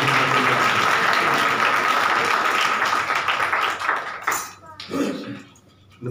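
Applause from a congregation at a Christmas church service, a dense sustained clatter of many hands that tapers off toward the end, with a voice speaking over the sound.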